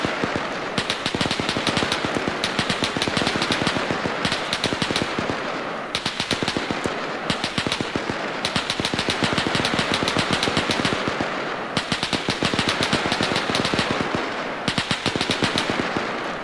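Machine gun fire in the video game Arma 3, long rapid bursts that go on almost without pause, loud and dense, with brief gaps between strings of shots.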